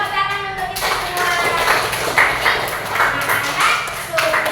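Children in a classroom clap their hands together during an Islamic religious education lesson, a steady run of crisp claps lasting several seconds with voices mixed in.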